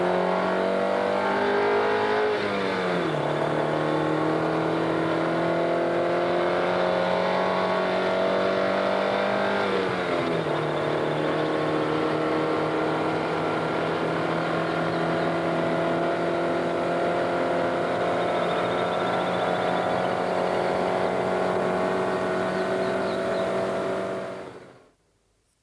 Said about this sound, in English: This is the Alfa Romeo twin shaft, the most used engine